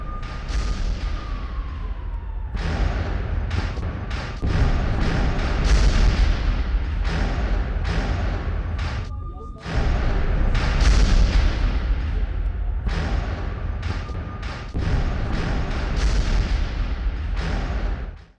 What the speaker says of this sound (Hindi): रॉकेट हमले और धमाकों की आवाज से अफरा तफरी मच गई।